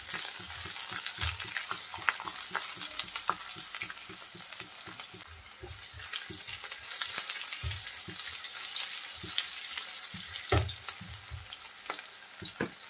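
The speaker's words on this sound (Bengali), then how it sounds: "পেঁয়াজ এবং কাঁচামরিচ হালকা একটু ভেজে নেব।" Onion and green chili frying in about two tablespoons of oil, producing a dense continuous sizzle with frequent stirring knocks and scrapes close up, no voices.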